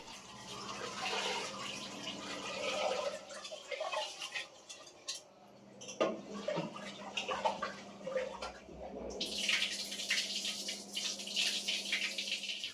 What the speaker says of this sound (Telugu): బియ్యం కడిగి స్టవ్ మీద పెడదాం అనుకుంటున్నానండి.